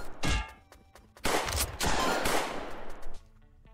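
Gunfire from the game Kung Fu Cowboy: a short burst of shots followed by a longer, loud stretch of rapid fire, all heard alone without talk.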